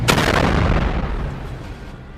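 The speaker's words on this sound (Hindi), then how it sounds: "जहाज के आगे के हिस्से पर एक मिसाइल दाग दी जाती है" A missile strike explodes on the front of a ship in a single loud, close boom that rolls and fades over about two seconds.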